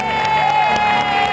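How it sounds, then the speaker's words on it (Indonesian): An audience at a family game show applauds and cheers for the Dawan family, a dense, loud burst of clapping and shouting heard close and continuous, with a voice under the noise. "tepuk tangan dong untuk keluarga Dawan."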